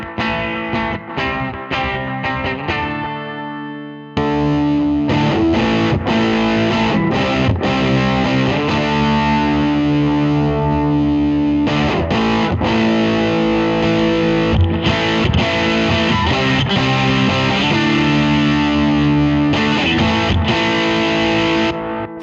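Electric guitar on the bridge pickup strums chords through a homemade fuzz pedal with delay and no chorus, loud, thick and distorted, ringing continuously for about twenty seconds with brief stops and no voice.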